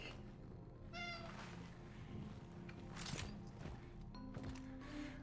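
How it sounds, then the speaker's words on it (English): A cat meows in the video game Cronos: The New Dawn, two or three soft, fairly quiet mewing calls spread out over a low ambient game soundscape with a few faint clunks. "Hello, other cat. You'd probably like some milk, wouldn't you?"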